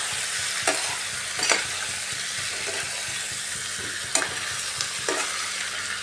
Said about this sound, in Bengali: সব মশলার সাথে চিকেনটাকে ভালো করে কষাতে হবে।